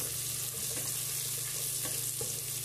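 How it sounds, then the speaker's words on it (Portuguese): Garlic sizzles steadily in a hot pan while pasta is being cooked, making a continuous crackling hiss with a few faint pops and a low background hum, and no one speaks. "já dourou aí o alho"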